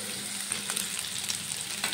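Vegetables for chapati noodles fry in a pan with a close, steady crackling sizzle and a few light stirring scrapes over two seconds.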